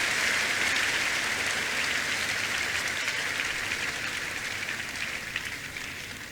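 A church congregation applauds and cheers for new believers, a dense, loud, steady wash of clapping from a large crowd that slowly fades.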